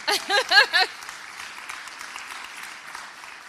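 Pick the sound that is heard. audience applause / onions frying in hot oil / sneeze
audience applause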